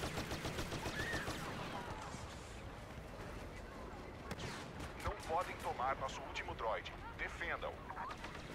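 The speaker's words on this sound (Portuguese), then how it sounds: "Tem que destruir aquela metralhadora deles ali" Rapid blaster and machine-gun fire in the Star Wars Battlefront video game, repeated bursts of shots over steady battle noise, with a voice talking through much of it.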